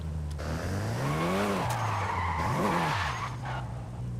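A Toyota Supra skids through a turn on the last lap of a racing video game, its tires squealing loudly over a rising and falling engine note, with brief higher screeches.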